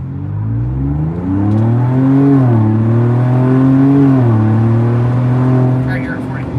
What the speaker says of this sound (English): I'm going to gun this thing. So you guys can get a true sense of the volume of it.